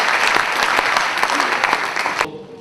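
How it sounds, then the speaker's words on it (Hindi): Loud, dense applause from an awards-night audience welcoming Shatrughan Sinha at a Sahyog Foundation and Global Sindhi Council event, steady for about two seconds before cutting off abruptly. "तो एक बार जोरदार तालियों से मिस्टर शत्रुघ्न सिन्हा जी का स्वागत"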